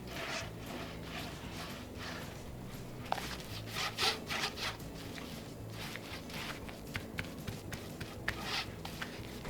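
Chalk paint in the colours Fairy Chalk Mother and Snowflake brushed onto wooden furniture boxes with a 1 1/4 inch Paint Pixie brush, a steady soft scrubbing and rubbing of bristles on wood, close and fairly quiet, with no talking.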